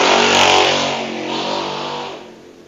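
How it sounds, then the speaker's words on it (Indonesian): A motorcycle ridden recklessly roars past nearby, its loud engine revving hard and then fading as it moves away, with no one talking. "itu orang ugal-ugalan pakai motor, nggak pakai etika"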